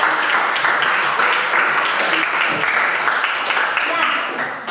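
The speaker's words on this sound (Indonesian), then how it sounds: "Tepuk tangan dulu." Applause from a secondary-school class during a lesson, a steady dense patter of student clapping filling the room for several seconds with a faint murmur of voices beneath.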